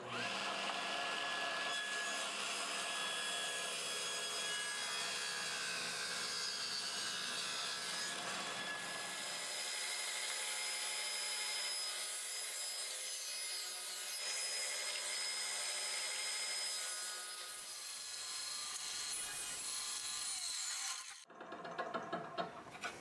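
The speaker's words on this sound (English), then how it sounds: "It's going to be all cuts made on the table saw" A table saw cuts pieces of wood, a sustained loud whine of the spinning blade biting through the stock, easing off toward the end with brief clatter.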